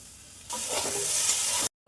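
Crumbled paneer hits a hot pan, and a sudden bright sizzle and stirring bursts in after a quiet start, continuing loud and close before cutting off.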